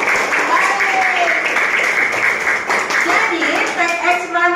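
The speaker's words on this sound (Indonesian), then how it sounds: "Tepuk tangan buat teman-teman kita semua." A classroom of students applauds, steady dense clapping that fills the room, with a voice speaking over it toward the end.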